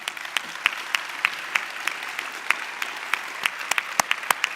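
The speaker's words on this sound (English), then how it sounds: "So a big applause to these two." A conference audience at the IFLA WLIC 2023 closing session applauds. The clapping is fairly sparse and moderate, with distinct individual claps standing out over a soft steady background.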